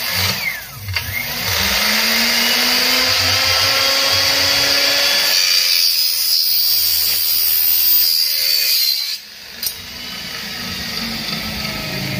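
Aluminum miter saw with a freshly sharpened blade cutting aluminum, a loud, steady high-pitched whine running for most of the clip with a short dip before it resumes.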